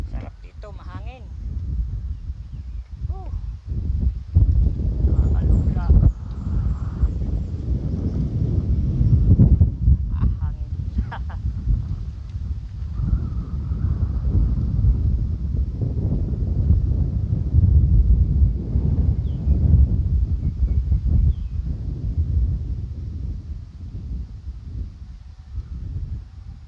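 Steady wind rushes and buffets the microphone outdoors in Calauan, Laguna, with someone talking over it now and then.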